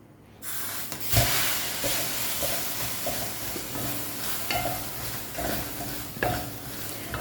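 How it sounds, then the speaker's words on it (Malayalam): Washed and drained split green gram (moong dal) roasting in a pan, with a steady, close sizzle and hiss and periodic scraping knocks from stirring. "ഇപ്പോൾ ചെറുപയർ പരിപ്പ് വറക്കുമ്പോൾ ശ്രദ്ധിക്കേണ്ട കാര്യം"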